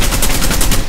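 Rapid gunfire from Rainbow Six Siege, loud and close, a quick burst of repeated shots in steady rhythm filling the whole second with no talk.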